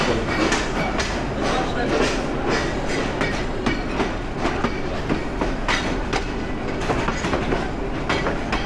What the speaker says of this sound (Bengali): রেলওয়ে স্টেশনের অবস্থা এরকম।